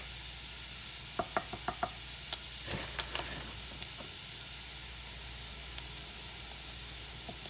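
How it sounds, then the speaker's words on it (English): Flour stirred into hot oil in a pan for Southern-style hamburger steak gravy, giving a steady close sizzle with a quick run of spoon taps and scrapes near the start and a few more scattered later. "And now we're just going to give that a mix."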